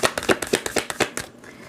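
Oracle cards for a love reading are shuffled and drawn in a quick series of soft, crisp flicks and slaps, close and fairly quiet, with no talking.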